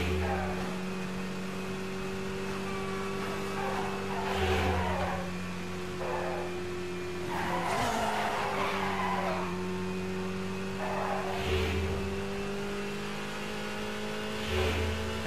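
A race car in the video game Midnight Club Los Angeles drones with a steady engine tone, then revs and skids in repeated bursts with tire squeal, close and prominent throughout.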